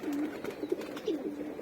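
Pigeons in a breeding loft cooing close by, several soft low rolling coos in quick succession over a faint background rustle.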